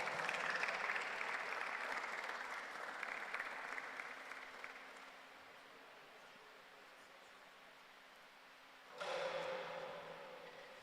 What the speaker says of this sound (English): let's clap for her before she reaches here.